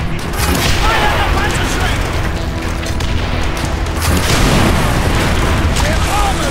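Panzerschreck rockets fire and explode during a battle in Call of Duty: World at War, producing continuous loud booms and rumbling blasts. Shouted voices sound over the roar.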